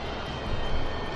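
A nearby aircraft engine spools up in the DCS flight simulator, a steady broadband roar and whine that swells slightly partway through, close and fairly loud with no talk.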